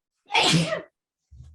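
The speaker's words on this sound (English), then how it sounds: "I sneezed so hard, everything went white on my screen." A single loud, close sneeze bursts out sharply, followed after a short pause by a faint low rustle.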